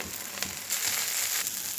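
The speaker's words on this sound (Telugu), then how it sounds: "కొద్ది కొద్దిగా వేసుకొని ఈ కళాయిలో తిప్పుకుంటూ ఉండాలి" Gongura leaves fry in a kadai for an Andhra-style pachadi, a close, steady sizzle broken by soft scraping bursts as they are stirred.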